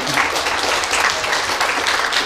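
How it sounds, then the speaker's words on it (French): An audience at a talk on internet freedom breaks into applause, a dense, loud patter of many hands, close and continuous for a couple of seconds. "Vous pouvez applaudir"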